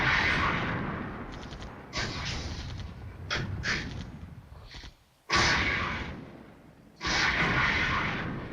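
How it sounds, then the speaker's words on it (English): Gunfire and explosions sound as BMP vehicles launch missiles in the Cold War strategy game Flashpoints Campaign: several loud booming blasts with sharp onsets that decay slowly, close and heavy, with no talk. "those BMPs launching their missiles, they're just not going to hold"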